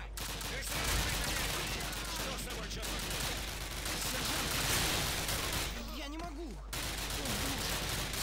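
Sustained bursts of automatic gunfire from the video game Call of Duty rattle on almost without pause, with game sounds layered underneath, while a player speaks briefly over it.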